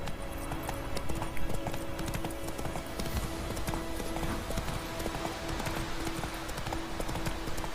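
Geralt's horse Roach gallops in The Witcher 3, a steady rapid clip-clop of hooves running continuously at moderate volume under faint game ambience, with no one talking.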